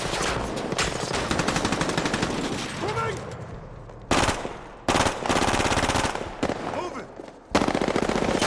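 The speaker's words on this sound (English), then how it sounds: "he used something like a Glock 18, which is an automatic handgun" A Glock 18 automatic handgun fires several long, rapid full-auto bursts separated by short gaps, loud and close, with cinematic scoring and sound effects around the gunfire.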